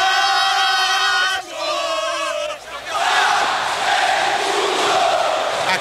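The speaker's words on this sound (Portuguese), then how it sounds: "O coro, um misto de adoração e gozação, vem da torcida do Vasco" Vasco supporters in a packed stadium during a 2004 Carioca championship match against Fluminense: a massed chant of many voices in sustained tonal phrases, dense and loud, swelling into a broad roar of crowd noise.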